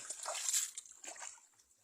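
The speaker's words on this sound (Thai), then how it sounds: "น้ำไหล" Water splashes and trickles in a muddy pond while fish are caught, a brief close sloshing in two bursts, with no clear talk.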